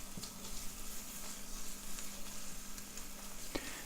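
Onion whites and dried spices fry in a pan with a soft, steady sizzle, faint and close, with occasional small stirring clicks.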